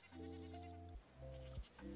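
A goat bleats in a video game, with two drawn-out, wavering calls separated by a brief pause, then the start of a third, loud and close, with faint high chirps and a low rumble beneath.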